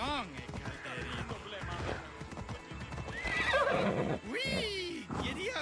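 In Assassin's Creed Odyssey, a ridden horse clip-clops along and lets out whinnying neighs, with game voices talking over the hoofbeats and the animal calls.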